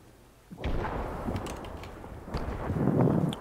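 Gunshots are fired into the sky in a video game: a few heavy, booming reports thud out at close range, separated by short gaps.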